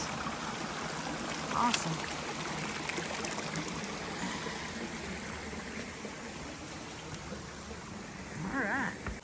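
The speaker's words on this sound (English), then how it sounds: "It's really the first waterfall, decent waterfall, besides Emma-Calola Falls that we've seen on the trail." A waterfall on the Appalachian Trail rushes in a steady broadband roar throughout, with a brief spoken word near the start and a quacking-like call toward the end.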